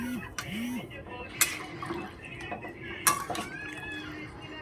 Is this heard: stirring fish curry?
yes